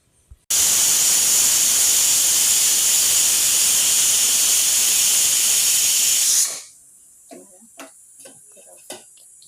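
Hot oil hisses loudly and evenly for about six seconds as mustard seeds splutter, then drops away, leaving a few scattered sharp pops and crackles.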